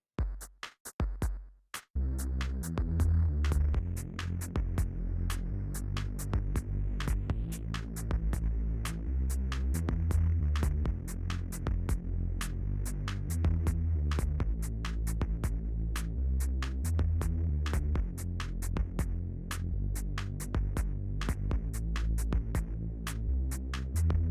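A steady, throbbing low synthesizer bass tone with a muffled, filtered timbre, future garage style from a Thor synth in Cubasis, pulsing continuously for a long stretch after a brief choppy start.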